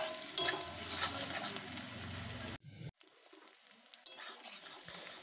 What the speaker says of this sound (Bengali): কড়াইতে দেখো তেল দিয়ে পেঁয়াজ দিয়ে এটা ভেজে নিচ্ছি।